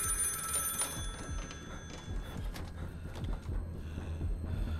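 A telephone rings in the horror video game Finding Frankie, a bright electronic bell in the first second, then giving way to scattered clatter and thuds.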